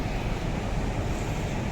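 A swollen river rushes hard after a night of rain in Uttarakhand, a dense, loud, continuous roar of churning water with no pauses.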